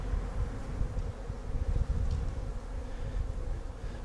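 Honeybees buzz steadily in a dense, continuous drone during a beekeeping hive inspection, the swarm close and even with no voices over it.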